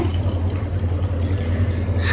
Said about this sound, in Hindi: जिस प्रेशर से पानी को खींचा जा रहा है